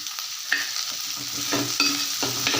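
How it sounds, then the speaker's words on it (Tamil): Onions sauté with salt in a pan, crackling and hissing steadily up close. A few stirring scrapes sound at intervals, with no talking. "வெங்காயம் உடனே வதங்கிறதுக்கு கொஞ்சம் உப்பு போட்டுக்கிறேன்"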